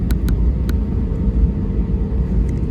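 Airplane engines rumble at Indore airport before takeoff, a loud, steady low drone heard from inside the aircraft, with a few faint clicks near the start.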